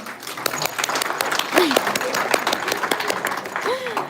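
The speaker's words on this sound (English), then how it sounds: "If you consider yourself the purple robot, please clap your hands." An audience in a hall claps hands for several seconds, a steady dense patter of applause with a few louder claps, mixed with scattered voices.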